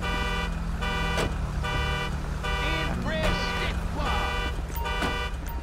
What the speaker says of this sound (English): An alarm going off.